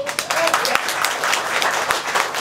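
A crowd applauds continuously at a live music house during a tribute night, dense clapping from many hands filling the space at a steady, lively level.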